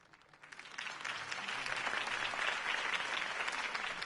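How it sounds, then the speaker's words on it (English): Crowd applause following a campaign speech in a Batman video game, rising quickly from quiet into a dense, sustained wash of clapping that holds steady. "could have heard that applause"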